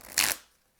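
Tarot cards being shuffled in one quick riffling burst of papery flutter, close and brief, then fading into quiet; no talking.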